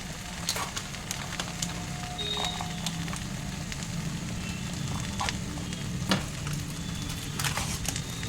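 Diced taro frying with spices in a pan, a steady low sizzle running throughout with scattered sharp pops and crackles, close and fairly quiet, with no talking.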